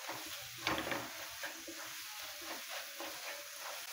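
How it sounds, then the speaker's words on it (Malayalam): Chillies frying in a pan while being stirred, a steady hissing sizzle with soft scraping of the spoon, close and fairly even. "ആ മുളകിൻ്റെ കുത്ത് മാറി കിട്ടണമെന്ന് നമുക്ക് ശരിക്കും ഇളക്കി കൊടുക്കാം."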